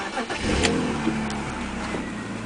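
A 1997 BMW E36 M3's engine cranks briefly on a cold start and catches, then settles into a steady, fairly loud idle close by.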